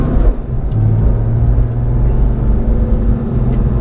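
A Porsche 991.2 GT3 with a manual gearbox is pushed fast up a hill, its engine holding a loud, steady low drone with a faint whirring tone from inside the cabin, and no one speaks over it.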